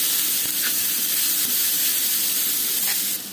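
Todika and onion with masala, salt, turmeric and coriander powder sizzle steadily in a pan, a loud continuous frying hiss with occasional stirring scrapes and no talking.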